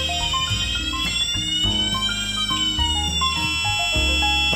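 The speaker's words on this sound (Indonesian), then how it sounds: "Ini buzzernya bunyi lumayan kenceng." A loud electronic alarm buzzer from a smart door lock sounds continuously, cycling through rapid stepped tones in a repeating pattern.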